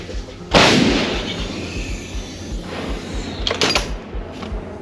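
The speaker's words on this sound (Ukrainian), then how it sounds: "Постріл." An artillery gun fires on a battlefield: a single heavy boom at the start, followed by a rumbling tail, then a couple of sharper distant cracks; no talking.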